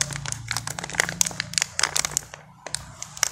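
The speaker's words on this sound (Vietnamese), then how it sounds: "Rồi mình sẽ bóc cái gói mồi câu này ra nhé." A plastic fishing bait packet is torn open up close, giving a run of sharp crinkling rustles and crackles over a quiet low hum.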